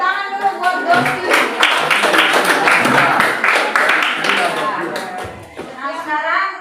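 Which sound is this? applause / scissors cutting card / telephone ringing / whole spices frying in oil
applause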